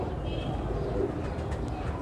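Male Kasuri pigeon cooing in sunlight outdoors, soft low coos repeating close by over a constant background hum.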